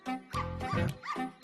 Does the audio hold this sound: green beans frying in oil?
no